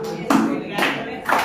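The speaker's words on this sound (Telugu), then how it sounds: "ఓకే అందరూ చప్పట్లు కొట్టండి" A group of people claps in three distinct, evenly spaced bursts, each a sharp collective smack that fades quickly before the next.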